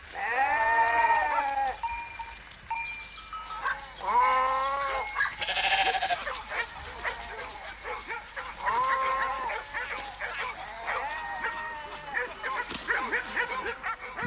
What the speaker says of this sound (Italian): All'attacco dei cani, le pecore reagiscono con uno sbandamento disordinato che scatena ancora di più l'istinto predatorio